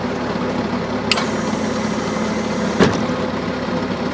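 A Bobcat 773 skid steer loader's engine runs steadily at a constant drone while the loader arms lift, with a hydraulic whine joining partway and a couple of brief clunks, heard up close and without talk.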